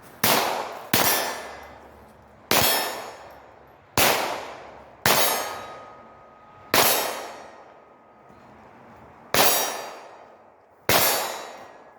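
A Ruger Mark IV pistol fired one-handed at steel targets, eight sharp shots spaced roughly a second or more apart, each with a ringing metallic clang that decays before the next, nearby and loud with no talk.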